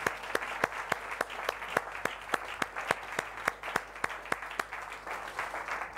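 A church congregation claps in a steady, regular rhythm, each sharp clap landing evenly over a faint murmur of applause, quiet and somewhat distant throughout.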